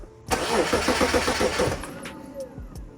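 A BMW E36 with more than 200,000 miles cranks briefly, then catches and runs with a rough, loud engine roar close by before settling and dying down.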